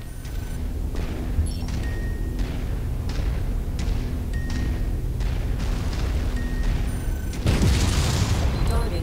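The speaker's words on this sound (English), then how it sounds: "Short range missiles, they're kind of like a shotgun of missiles at short range, they're not guided." Unguided short-range missiles fire in quick bursts and blow up in MechWarrior 5 Mercenaries, loud booms and mechanical clatter rolling over a continuous din of battle, with a big blast near the end.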